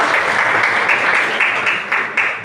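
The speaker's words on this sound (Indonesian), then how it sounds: "Tepuk tangan dulu." A classroom of students claps together during a mathematics lesson, dense and fairly loud hand-clapping that continues evenly for a couple of seconds with a few louder bursts toward the end.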